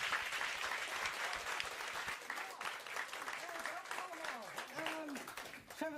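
A theatre hall audience at a live show applauds, dense continuous clapping with cheers and shouts rising over it, heard fairly faint and distant.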